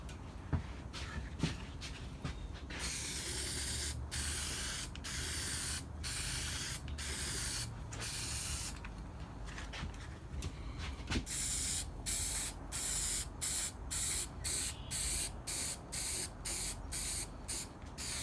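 Green spray paint hisses from an aerosol can onto an antique Black and Decker valve grinder, a long burst followed by a string of short, rhythmic pulses as light coats are applied, close and steady.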